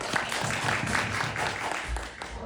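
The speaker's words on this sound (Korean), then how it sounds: "저희 감독님이랑 배우님이랑 같이 입장하셨는데 박수 한 번만 크게 부탁드릴게요." Audience at a Korean film screening and talk greets the entering director and lead actress with applause, a brief, fairly quiet patter of clapping from a seated crowd.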